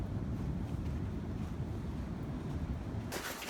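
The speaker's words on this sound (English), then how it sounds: "There's waves," Ocean surf rolling onto a beach under a full swell in the rain, buried beneath heavy wind buffeting on the microphone, a steady low roar with a brighter rush of water near the end.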